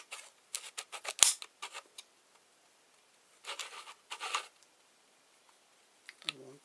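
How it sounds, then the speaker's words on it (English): A ratchet inside a model diesel engine starter clicks in short, faint, close-up bursts of rapid ticking, separated by pauses and ending with a brief spoken sound. "that's clicking around on the ratchet inside"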